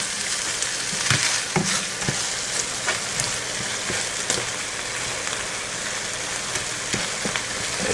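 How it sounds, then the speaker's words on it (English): The white parts of bok choy sizzle and fry in a hot pan, a dense continuous crackle with scattered stirring clatters and scrapes. "Just mix in the white part of the bok choy and let it wilt down for a little."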